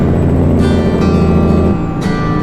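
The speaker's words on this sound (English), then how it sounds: "That right there, that's the sound of a truck that don't hesitate." A semi truck engine hauling 40,000 pounds of grain drones steadily and loudly with a deep low rumble, shifting pitch slightly as it pulls, with no talking.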